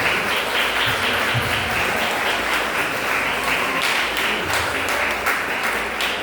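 A church congregation applauds the Lord, a dense, steady roar of many hands clapping close and loud, continuing without a break.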